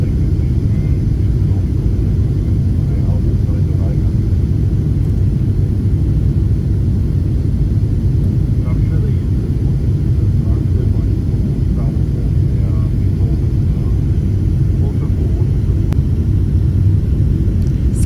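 Steady, loud roar of a passenger jet cabin as the airliner climbs low over the gulf waters just after takeoff from Doha airport in Qatar, a dense low rumble that holds unbroken throughout.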